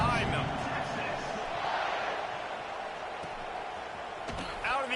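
A big football stadium crowd roars steadily at kickoff, a dense sustained wash of cheering that holds throughout with a brief swell near the end.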